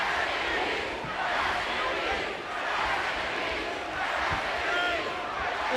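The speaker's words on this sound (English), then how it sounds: "The sold-out crowd of idiots here are chanting "Rest in peace."" A sold-out wrestling arena crowd chants in rhythmic swells at a WWE title match, the roar rising and falling in regular waves from a distance while a commentator talks over it.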